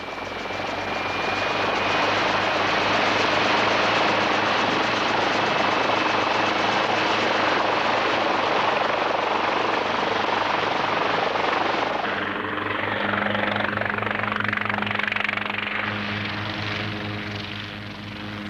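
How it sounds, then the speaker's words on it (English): A helicopter lifts off from the research ship Calypso near Thera: a loud, continuous rotor and engine roar that holds steady, then changes character as the aircraft climbs away. "the helicopter lifts off to make the first reconnaissance"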